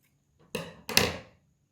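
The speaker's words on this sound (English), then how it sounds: "we chop off those loose bits" Kitchen scissors snip through loose black yarn ends in two quick, close, crisp cuts against a quiet background.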